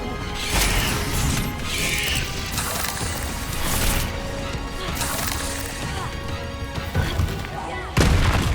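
Spell explosions from Confringo and Bombarda in Hogwarts Legacy: repeated loud booms and crashing blasts in a dense, busy battle, with a final heavy impact near the end.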